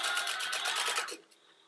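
A sewing machine stitches through layered fabric of a crossbody purse in a fast, even mechanical rhythm for about a second, then stops abruptly, leaving a faint quiet tail.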